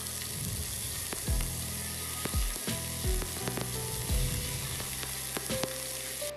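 Crushed ginger and garlic fry in a pan for a spicy Erode chicken dish, making a constant hissing sizzle punctuated by several low thumps and clinks of stirring, close up and without speech.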